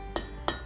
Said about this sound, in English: I'm using a cold chisel